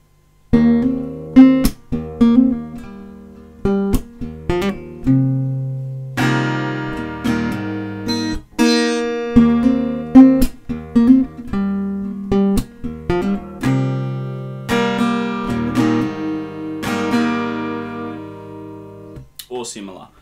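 An acoustic guitar plays a song, mixing picked chords with sharp percussive flick accents, close and clear, in a steady rhythmic groove that runs for about twenty seconds.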